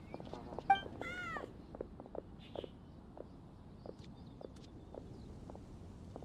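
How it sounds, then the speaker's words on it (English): Paisley, a cat in the Genshin Impact video game, gives a short burst of meows near the start, then soft padding footsteps and faint game ambience continue alone. "Oh, good kitty."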